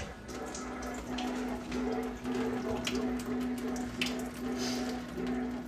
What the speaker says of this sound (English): So what we're gonna do is push all of that water out under pressure like this.